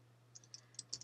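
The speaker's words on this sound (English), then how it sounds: "let's just type in numbers" A computer keyboard is typed on, with a few sharp, faint key clicks picking up toward the end over a low steady hum.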